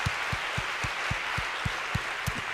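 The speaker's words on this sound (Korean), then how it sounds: "모든 감사의 박수 올려드리겠습니다." Steady rhythmic clapping from a church congregation at a Friday worship service, about eight even claps spread over a couple of seconds, soft and slightly distant, with no voices over it.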